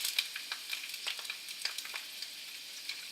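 Sausage frying gently in a pan over lowered heat, a faint steady sizzle dotted with soft crackles and small pops of fat, heard close up and alone without any talk.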